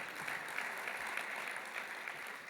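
Audience at a Republican leadership meeting applauds in a steady, dense wash of clapping that holds evenly throughout, with no voice over it.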